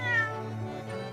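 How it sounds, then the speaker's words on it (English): A cat in The Great Ace Attorney video game gives a single drawn-out meow, clear and close with nothing else over it. "Oh, this cat is amazing."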